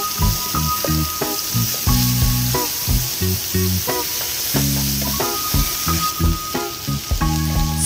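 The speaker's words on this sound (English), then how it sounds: "Add the lamb chops and cook until browned on both sides" Lamb chops fry in olive oil in a hot skillet, a steady sizzle that runs the whole time beneath a rhythmic musical backing.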